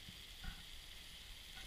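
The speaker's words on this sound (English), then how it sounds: "Got mushrooms, peppers, and onions cooking up here." Mushrooms, peppers and onions frying together in a pan give off a faint, steady sizzle and hiss, with a couple of soft bumps near the start.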